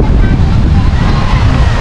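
Wind blowing hard across an outdoor spot, a loud, continuous rushing buffet that fills the whole moment with no letup.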